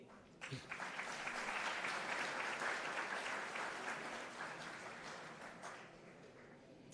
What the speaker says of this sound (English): May we have another round of applause?